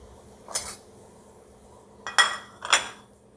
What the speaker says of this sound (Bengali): মাছগুলোর সঙ্গেও এইভাবে একটু চামচ দিয়েই মেখে নেব